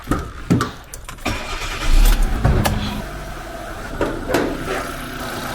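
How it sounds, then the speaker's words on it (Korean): A used Kia Morning engine with about 65,000 km cranks and starts, then settles into a steady idle, heard close up in the engine bay with a few clicks and knocks. "엔진 소리 굉장히 깔끔하죠"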